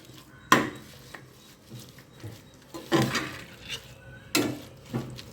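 Mint and coriander are stirred into egg biryani with a spoon, producing a few distinct metallic clanks and scrapes against the pot, spaced irregularly and close by, with a faint quiet background.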